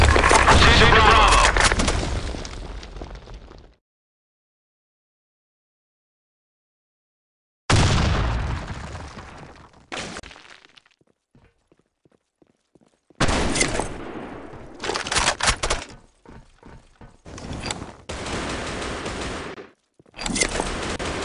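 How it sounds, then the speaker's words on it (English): Grenade explosions and bursts of gunfire from the video game Blackshot come in loud, abrupt volleys separated by stretches of silence, with rapid rattling shots in the later half. "Fire in the hole! Grenade!"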